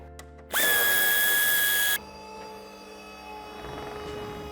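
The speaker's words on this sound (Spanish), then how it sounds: "Desenchufamos y aflojamos el tornillo que sujeta el paragolpes." A power screwdriver whirs loudly for about a second and a half, loosening the bumper screw on a 2020 BMW iX3 G08, then stops, leaving quiet workshop background.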